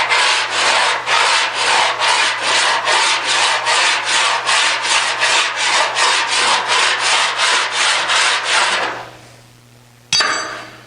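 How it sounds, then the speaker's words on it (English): Steady back-and-forth strokes of a hand file across an aluminum auto body panel during dent repair, a rhythmic rasping scrape repeating about every half second, loud and close, then stopping near the end before a brief final scrape. "And you can use a file with that too."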